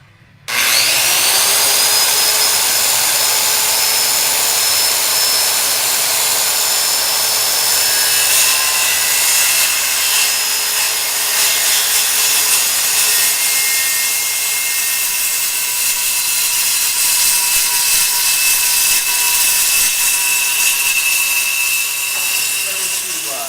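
Power saw cutting a wooden board guided along a clamped straight edge, a loud continuous whine and rasp lasting over twenty seconds without break, with a voice faintly underneath.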